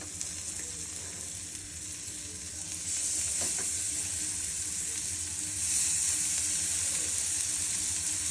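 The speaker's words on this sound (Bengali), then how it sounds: "এটার থেকে তেল বার হয়ে পুরো এটা ভালোভাবে ভাজা হয়ে যাবে।" Steady sizzling of fish-fat fritters frying in a pan in their own rendered oil, a continuous hiss that grows slightly louder partway through, with no voices.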